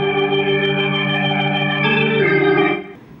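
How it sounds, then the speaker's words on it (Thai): Organ voice on a guitar synthesizer, a bright sustained chord with rich steady harmonics, changing notes midway and then cutting off, played alone with no speech. "โอเคนะครับเสียงออแกนเนี่ยสามารถเล่นเป็น"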